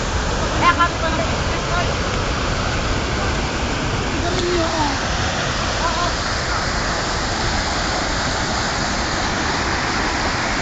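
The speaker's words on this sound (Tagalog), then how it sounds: "Mula dito makikita po natin ang kulay tsokolating tubig na lumalagak sa talon na ito." Bunga Falls pours chocolate-brown water in a steady, loud roar of rushing water that continues unbroken throughout, with a few faint voices and brief bumps near the start.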